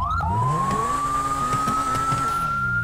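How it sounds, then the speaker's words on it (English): A steady, high video game police car siren wails continuously over a low engine rumble, loud and close, with no pauses. "Check out all of the lights and sirens."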